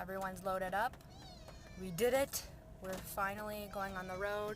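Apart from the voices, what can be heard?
cats meowing in a car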